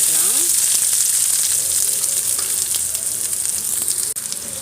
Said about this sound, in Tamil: இப்போ நான் 1 கப் வெங்காயம் கட் பண்ணி போட்டுக்கலாம்